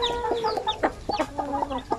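Newly hatched pure Basilan chicks peep in quick, high, chirping bursts, several calls overlapping in an irregular rhythm, close and fairly loud.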